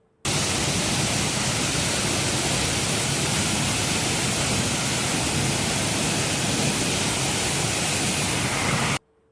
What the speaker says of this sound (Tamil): மேற்கு தொடர்ச்சிமலை பகுதிகளில் பெய்த கனமழையால் குற்றாலம் ஐந்தருவி மெயின் அருவியில் வெள்ளப்பெருக்கு